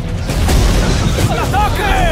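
Grenade explosions in a battle scene of the animated war film Unicorn Wars, heard as loud, continuous rumbling booms and bursts with shouting voices mixed in throughout.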